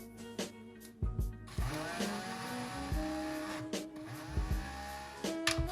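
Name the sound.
Moulinex food processor running while grinding salt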